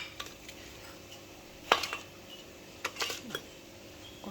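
Dried mango seeds drop into a metal pressure cooker in a home kitchen, giving a few sharp, close clinks and rattles spaced apart over a quiet background.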